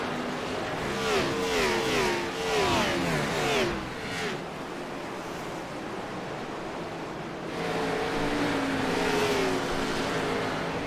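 Cup race cars scream past on track, their engines rising and dropping in pitch as drivers shift gears, a cluster of cars, then a quieter lull, then another pass building to full volume.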